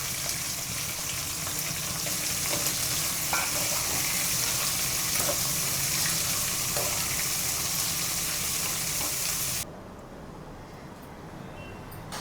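Onions sizzle steadily in a pan as they sauté, a continuous loud hiss that drops off abruptly near the end with no talking.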